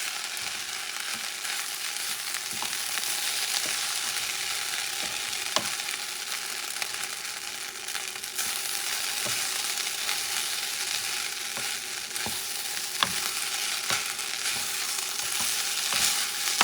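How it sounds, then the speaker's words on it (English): Rice with salted pork fries in a pot while being stirred, giving a constant hiss of sizzling with periodic scrapes and taps of the utensil against the pot, close and steady. "I'm going to mix it. Stir a little bit."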